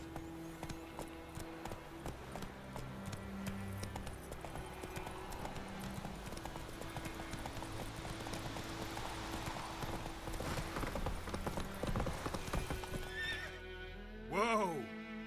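Roach, the horse in The Witcher 3: Wild Hunt, trots with steady close hoofbeats over game music, then lets out a loud whinny near the end.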